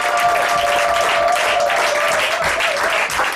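A congregation applauds during a church service, a dense, steady wash of many hands clapping at once, loud and close, with a faint sustained tone running underneath.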